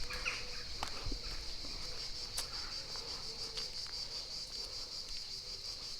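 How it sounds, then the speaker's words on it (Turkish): Steady high-pitched insect buzzing drones throughout, a continuous shrill chorus of cicadas with faint scattered clicks and no talking. "Ağustos böcekleri var ya. O kadar güzel ötüyorlar ki."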